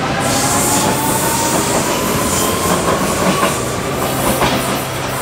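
Vienna U4 metro train running, a loud continuous rumble and rattle of wheels on rails with faint clickety-clack and a thin squealing whine throughout, heard from inside or close by, with no talking.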